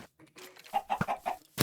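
A chicken in the video game Minecraft clucking, a few short, quick, close clucks in a brief burst with no voices over it.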